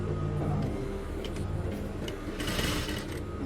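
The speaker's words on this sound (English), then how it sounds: "So I'll go ahead and sew." Sewing machine stitching a shirt side seam, a continuous close mechanical whir with a rapid rhythmic needle chatter that swells slightly toward the end, with no talk.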